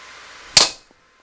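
An explosive-loaded bat fires when tapped, giving a single sharp, loud crack that decays quickly into near silence, with no talking.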